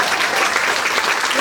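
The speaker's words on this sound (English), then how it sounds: "Give her a round of applause." An audience claps at a ketchup recipe contest program held at a restaurant in Virginia, giving a brief, dense burst of applause that stays even and loud from start to finish.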